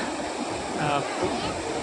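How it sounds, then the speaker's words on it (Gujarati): Water pours over a small dam-like bridge, a constant rushing splash of falling water heard close and fairly loud throughout, with a voice faintly audible beneath it. "પાણી જાય એવું પુલ છે. તો ડેમ જેવું છે, નાનો ડેમ."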